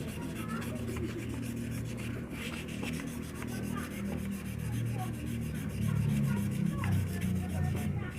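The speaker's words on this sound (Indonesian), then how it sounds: "Ini saya amplas sedikit-sedikit." Steady rubbing rasp of fine sandpaper worked by hand against a jammed fan bushing during a repair, continuous scraping strokes at close range with low hum beneath.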